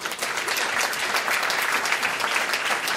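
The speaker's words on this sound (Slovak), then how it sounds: "Poprosím potlesk." Dense, steady audience applause fills a concert hall at a klezmer band's CD release concert, loud and continuous with no gaps and no talk.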